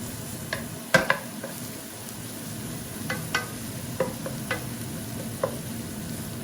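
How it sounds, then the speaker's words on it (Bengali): Garlic sizzling in a pan while greens are cooked, a soft continuous fry punctuated by a sharp utensil knock and several lighter stirring clicks, close and unaccompanied by talk. "এখন আমি রসুন দিলাম"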